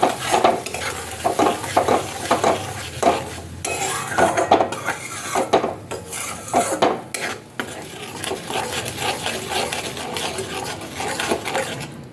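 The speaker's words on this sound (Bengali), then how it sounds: "এরপর আমি ওই টমেটো আর কাজু বাটাটা দিয়ে দেব, দিয়ে খুব ভালোভাবে কষাতে থাকবো।" Tomato and cashew paste stirred and fried in hot oil in a pan for vegetarian aloo dum, with repeated scraping and clanking spatula strokes over a constant sizzle, close and loud, no talking.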